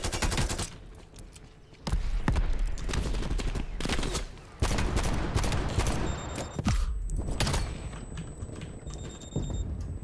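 Gunfire in Call of Duty Black Ops Cold War, loud and close, comes in sharp bursts separated by brief lulls, with a few sustained volleys and no speech.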